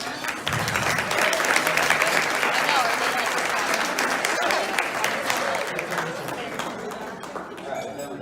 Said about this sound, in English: I want to give them a big round of applause for that